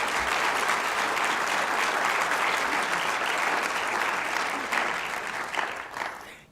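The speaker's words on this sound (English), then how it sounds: "Let's give them a round of applause." An audience at a community event in Naperville breaks into sustained applause, loud and dense clapping that carries evenly before tapering off at the end.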